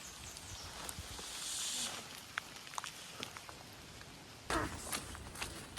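Rain falls steadily during a hike on the Appalachian Trail, a broad wash of drops pattering on leaves and gear with scattered sharper taps and a louder burst near the end.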